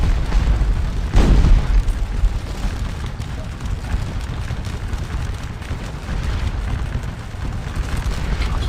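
Cannon and canister fire in the Napoleonic battle game Scourge of War Waterloo: one loud, close boom early on, followed by a steady rumble of distant gunfire and battle noise.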